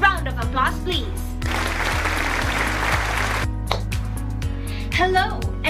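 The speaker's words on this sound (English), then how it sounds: "A round of applause, please." Applause from an audience welcoming a speaker at a school advocacy event, a dense burst of clapping lasting about two seconds, laid over steady background music.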